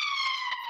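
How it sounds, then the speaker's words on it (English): A police siren wails steadily with a layered, high electronic tone, fairly close and loud, with no talking. "pardon the siren"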